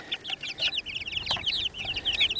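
Baby chickens kept outdoors chirp and peep in a steady, busy stream of high, quick calls, close by and with no talking over them.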